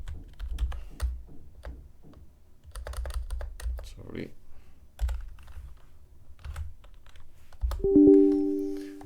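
Someone types an email address on a computer keyboard, producing light, quick key clicks in irregular bursts at close range, with a short electronic tone near the end.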